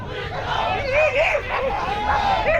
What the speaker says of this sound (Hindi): बेकाबू भीड़ आगे बढ़ती हुई